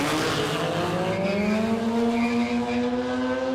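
A 1980s Japanese drag car with a 13B rotary engine launches down the strip at Warwick Dragway, its loud, close engine note holding steady and climbing smoothly in pitch for the whole stretch.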